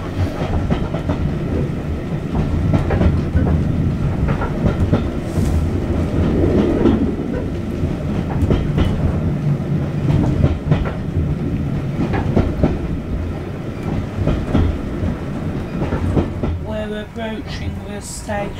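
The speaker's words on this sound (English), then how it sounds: "this isn't actually a steam train, it's a diesel engine pulling the train." A passenger train pulled by a diesel locomotive rolls along the rails, heard from onboard as a loud, continuous rumble with rhythmic clickety-clack of wheels over rail joints, with voices mixed in.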